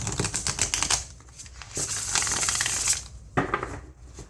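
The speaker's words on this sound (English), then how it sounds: "Let's do one more shuffle." Gilt-edged tarot cards riffle and shuffle with crisp, rapid flutters and a few soft slaps, close by and without speech.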